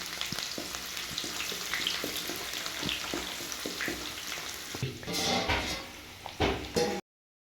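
Onions frying in a pan with whole spices for a pulao, a busy crackling sizzle broken by stirring clatters, swelling louder near the end before cutting off to silence.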